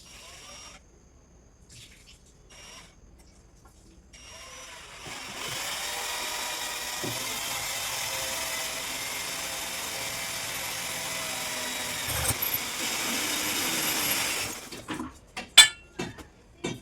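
A cordless drill whirs steadily for about ten seconds while boring holes in zinc pipe for a window frame, moderately close, followed by a few sharp clinks of metal.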